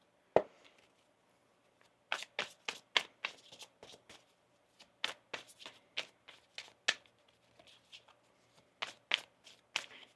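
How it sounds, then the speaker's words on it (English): A deck of tarot cards being shuffled by hand in a string of quick riffling bursts with short pauses between them, close and crisp against a quiet room, with no voices. "Let's get one more shuffle here for you"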